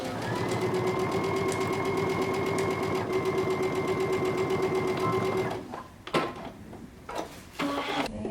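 Sewing machine stitching a pocket facing seam at a 5/8-inch allowance while making a jumpsuit: a steady, fast motor whir for about five seconds, then it stops and a few sharp clicks and fabric-handling knocks follow, close up.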